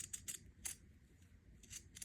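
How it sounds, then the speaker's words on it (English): Pinking shears snip through shirt fabric in a few short, crisp crunching cuts, close and quiet, with brief pauses between strokes. "let's use the pinking shears to trim that curve off"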